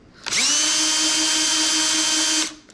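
Power driver with a hinge bit spinning into wood for a firewood rail, a single loud whine of about two seconds, starting and stopping abruptly, close up.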